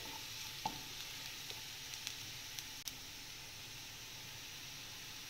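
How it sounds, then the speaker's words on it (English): Garlic sautés in a pan for a red Thai curry, giving a faint, steady sizzle with a few small pops and a stir or two, heard alone with no talking. "I'm sauteing the garlic."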